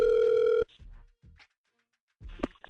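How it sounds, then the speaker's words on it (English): A steady telephone tone sounds loudly for about half a second on a radio show call, then cuts off, followed by faint clicks and line noise and a short burst of sound near the end. "I hope he answers the phone."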